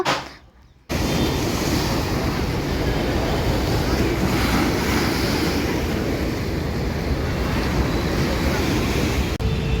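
Floodwater flows through the streets of Vijayawada in a loud, unbroken rushing roar after a brief quieter opening, with wind buffeting the microphone and no speech.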